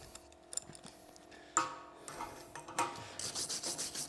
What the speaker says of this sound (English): Let's hit that thing with the brush just so we can see what's going on